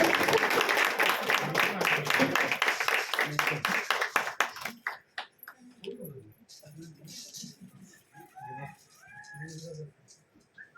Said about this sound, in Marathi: सगळ्यांनी छानपैकी टाळ्या वाजवा.